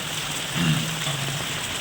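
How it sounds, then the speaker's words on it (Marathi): Monsoon rain falls steadily in front of a house amid green surroundings, a constant soft patter with a brief louder swell of splashing midway. "अकरा तारखेचा पाऊस आहे बघा चालू"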